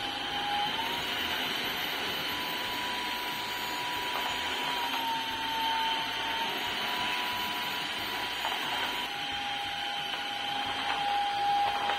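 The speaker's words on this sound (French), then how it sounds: "ça va pouvoir vraiment aspirer tout ce que vous voulez" A Dreame H12 wet-dry vacuum cleaner sucks up a thick psyllium paste, giving a steady, loud whining motor and airflow roar that holds evenly throughout with no talk.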